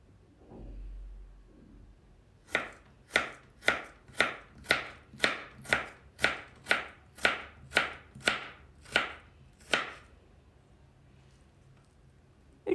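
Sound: knife chopping potato slices into matchstick strips

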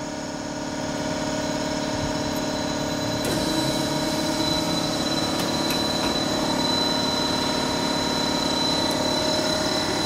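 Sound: rubber mixing mill machine starting and running

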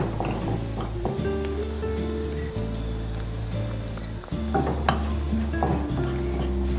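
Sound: finely chopped garlic and celery stir-frying in a pan

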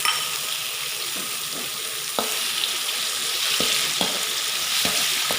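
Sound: garlic stir-frying in oil for pork pad kaprao

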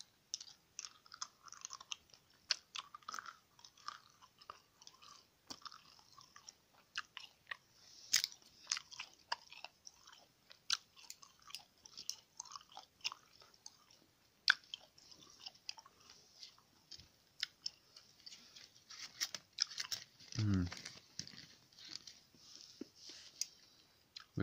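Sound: chewing gum, Extra brand style gum

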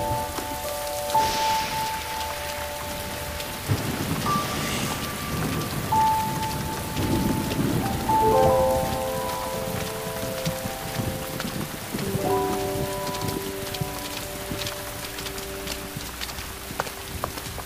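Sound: thunderstorm rain

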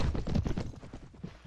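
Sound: horse hooves galloping in video game Mount & Blade Warband

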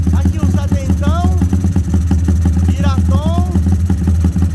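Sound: first start of a 70mm big-bore engine

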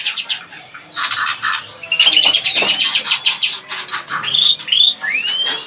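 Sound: green songbird chirping noisily

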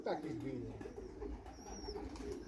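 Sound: pigeons cooing

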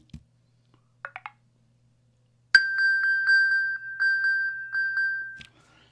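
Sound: iPhone ringing alert sound

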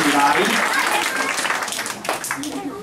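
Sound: audience applause at a magic show

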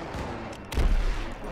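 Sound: gunfire in video game Call of Duty WW2

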